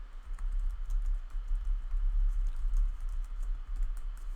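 Someone types on a computer keyboard while entering tasks in a to-do app, producing a rapid, even patter of soft key clicks close by over a low hum.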